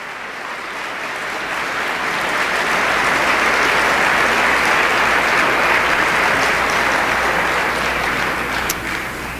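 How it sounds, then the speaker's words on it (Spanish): A large audience claps steadily and loudly, applause swelling and sustained for several seconds with no voices standing out. "¿Le da un buen aplauso a él?"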